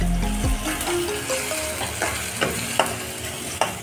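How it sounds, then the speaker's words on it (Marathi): Spices and coriander leaves fry in a pan while being stirred, a close sizzle broken by scraping strokes and light clinks of the spoon against the pan, with no talking. "कोथिंबीर, फ्राय करून घ्यायचं"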